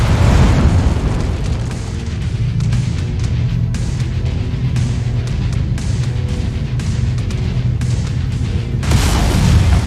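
A destroyed target explodes in a video game with a loud, sustained booming rumble that holds heavy low-end for several seconds and swells again at the end.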